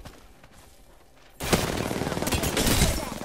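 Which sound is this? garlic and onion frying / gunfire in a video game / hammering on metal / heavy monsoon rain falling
gunfire in a video game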